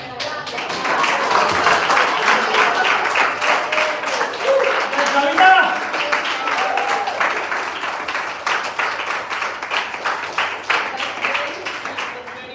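An audience at an employee speech competition claps together in a sustained, crackling burst of hand claps that lasts several seconds, with voices mixed in underneath.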